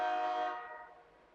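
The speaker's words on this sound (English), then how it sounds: "My windows are closed and this train be loud as shit." Loud train horn sounding outside a home with the windows closed, a sustained harmonic blast that fades away over about a second, heard alone without talk.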